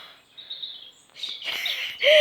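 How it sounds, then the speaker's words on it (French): A bird gives short high chirps and a thin whistled call, faint and close-ish, in a quiet setting with no one talking. "Ça doit être un oiseau."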